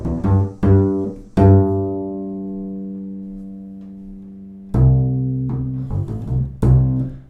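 An upright bass plays a bluegrass line with plucked, resonant notes, a couple of quick strokes, then a long sustained tone decaying into near silence before another run of notes resumes, close and alone.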